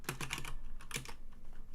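Rapid bursts of keystrokes on a computer keyboard, close and clear, in uneven clusters with a brief pause between flurries.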